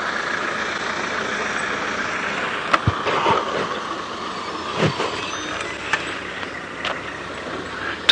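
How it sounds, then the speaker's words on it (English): A vehicle drives past in the distance during a safari drive, a steady low engine rumble with faint bumps and knocks over an outdoor hiss, staying fairly constant rather than swelling sharply. "Just a vehicle going past"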